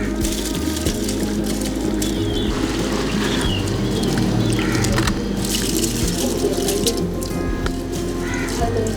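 Water running and splashing steadily as soaked basmati rice is drained and added for a country chicken biryani, a continuous close wash of liquid noise with small drips and squishes throughout.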